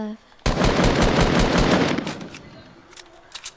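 Gunfire erupts in Fortnite: a loud, rapid automatic burst rattles for about a second and a half, then thins into scattered, fainter shots trailing off, with no one talking over it.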